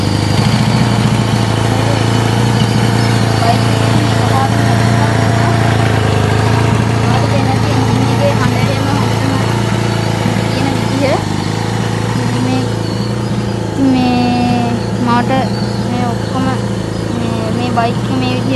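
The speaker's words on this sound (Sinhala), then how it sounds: "මම යතුරු දාලා ස්ටාර්ට් කරනවා බයික් එක." An owner-rebuilt motorbike's engine runs with a loud, steady, close-up drone throughout, while a voice seems to be heard at times over the engine.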